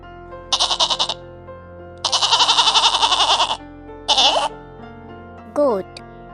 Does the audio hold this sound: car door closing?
no